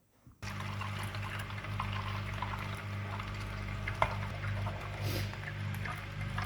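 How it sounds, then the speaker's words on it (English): A pot of liquid boils steadily on a stove, a continuous low rolling bubble and hiss that starts abruptly and holds at an even level, with a few small clinks and pops. "I'm gonna let it boil for a little bit longer"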